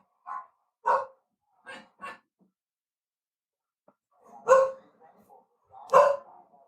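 A dog barks in short sharp bursts, a few spaced single barks followed by a couple of louder ones after a pause, close and fairly clear against near silence.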